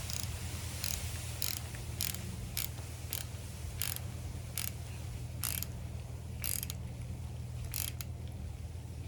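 A ratchet wrench tightens a bolt on a single cam Honda engine, clicking in short rhythmic strokes about a dozen times over a steady low mechanical hum, no talking.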